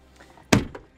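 A door opens with a single solid thunk and a brief follow-up knock, close by in an indoor room, with no talking.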